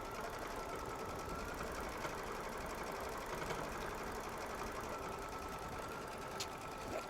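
Baby Lock Solaris embroidery sewing machine quilting in the hoop with 40-weight quilting thread, running as a steady, continuous mechanical whir at an even pace throughout, with no pauses or talk.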